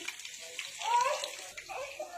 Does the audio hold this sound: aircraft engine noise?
no